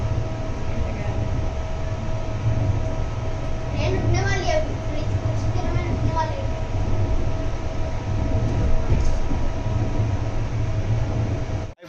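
Interior of the 18551 Kirandul Express passenger train running between Visakhapatnam and Borra Guhalu, a steady loud rumble of wheels and carriage with faint voices and brief squeals over the continuous drone.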